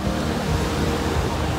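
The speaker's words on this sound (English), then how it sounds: "The water's kind of interesting, kind of a high tide." Ocean waves washing onto a tourist beach at high tide, a steady broadband surf roar that stays fairly loud and even, with no voices over it.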